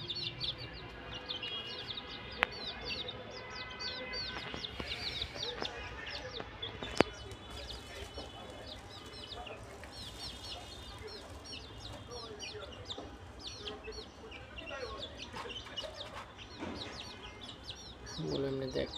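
Chickens kept indoors after a storm cluck and chirp over and over at a low, fairly distant level, with a couple of sharp knocks standing out.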